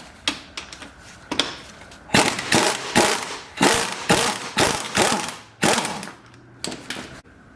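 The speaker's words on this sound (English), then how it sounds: "we're just going to take our 17mm socket, put it on here" A 17mm socket on a ratchet wrench loosens the top hat nut of a shock absorber, giving rapid clicking ratchet bursts in repeated strokes, close and fairly loud with brief pauses between.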